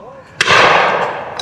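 A shotgun fires one loud, close blast at a clay target, loaded with small 7.5 to 9 shot, and the report rings out and decays slowly over about a second.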